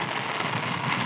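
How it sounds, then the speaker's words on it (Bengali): Rain falling steadily, a dense, even wash of close patter with no breaks or voices over its brief length. "বৃষ্টি হচ্ছে।"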